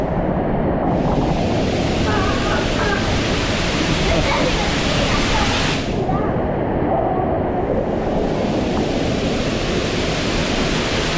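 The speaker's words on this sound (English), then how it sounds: "We're about to go underneath where the water comes out." Water thunders down from a waterfall in a loud, continuous roar heard up close, a dense unbroken rush that fills the whole scene.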